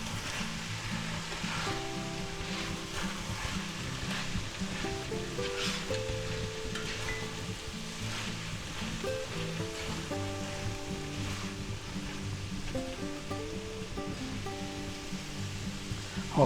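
Canned bean sprouts are stir-fried in a pan of shrimp chow mein, giving a steady, dense sizzle that runs without a break, with faint music underneath and no talking.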